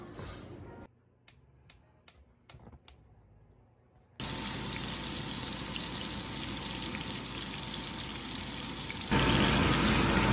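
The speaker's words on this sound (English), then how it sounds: "I know that fan's very loud" A loud kitchen exhaust fan roars with a steady broadband rush that starts abruptly and grows even louder near the end, after a quiet stretch with a few sharp clicks.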